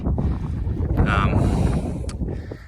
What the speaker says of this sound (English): So got a bit of wind up here now, which is nice.